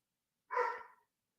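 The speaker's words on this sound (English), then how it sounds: "Oh, there goes the dog." A single dog bark, a short burst of about half a second, heard alone and fairly faint against a quiet background.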